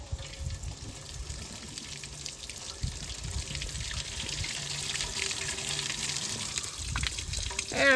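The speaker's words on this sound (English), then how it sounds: "Let's turn the water on and see what it does." Water gushes steadily from a hydrant through a hose outdoors. The flow holds as a continuous broad rush for several seconds and grows slightly stronger toward the end.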